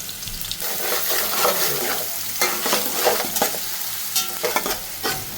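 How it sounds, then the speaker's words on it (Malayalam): Fenugreek seeds, cumin, garlic and ginger sizzle and crackle in hot oil in a pan for a fish-head curry, a close, steady frying hiss with scraping stirring strokes on top. "അപ്പോൾ ആദ്യം നമ്മൾ ഉലുവ ഇടുന്നുണ്ട്, ജീരകട്ട്, അപ്പോൾ വെളുത്തുള്ളിയും ഇഞ്ചി ഇട്ടിട്ടുണ്ട്."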